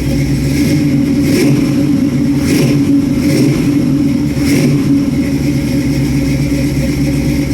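A Chevy Nova engine idles loudly and steadily up close after a cold start, a low rumbling drone with slight periodic surges.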